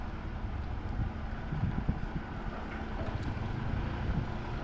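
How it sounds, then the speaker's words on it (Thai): Wind blowing at night outside an airport, a steady broadband rush with low rumbling buffeting against the microphone, fairly loud and continuous with no talk. "มีลมเนาะ"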